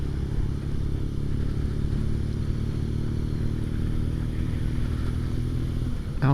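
A BMW R nineT motorcycle engine runs steadily nearby with a constant mid-pitched drone and faint clatter, no voices over it.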